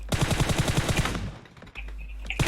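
Rapid automatic gunfire from a battle royale shooter, PUBG Mobile, rattling in a dense burst, breaking off into near silence, then resuming briefly at the end.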